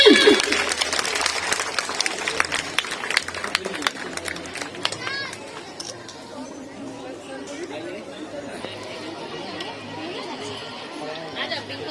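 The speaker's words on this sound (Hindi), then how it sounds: "हाथ में कुछ प्रॉब्लम नहीं है तो तालियों की गड़गड़ाहट होनी चाहिए ना।" An audience at an education-themed program bursts into loud rapid clapping that fades after a few seconds into a murmur of crowd chatter and scattered voices.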